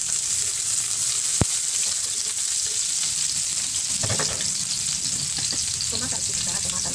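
Garlic, onion and ginger sizzle loudly in a hot pan, a steady bright hiss that runs throughout, broken by one sharp clack early on and a few stirring scrapes toward the end.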